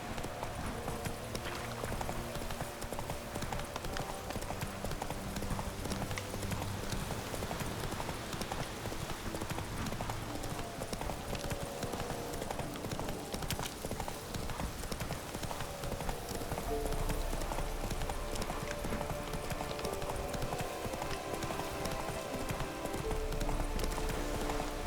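Roach the horse trots in Witcher 3, hooves clip-clopping in a steady, even rhythm throughout, moderately close and fairly quiet, with no speech over it.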